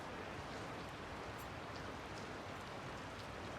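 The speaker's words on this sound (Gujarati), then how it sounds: "ચાલુ જ છે વરસાદ" Steady, dense rain falls outdoors during a downpour in Europe, a continuous even hiss with no pauses, fairly loud and close, with no talk over it.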